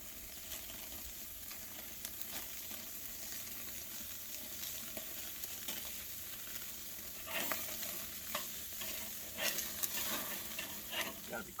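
Hamburger patties sear on a Weber grill, a constant faint sizzle with occasional crackles and a few brief scraping clicks from a spatula, growing slightly busier toward the end.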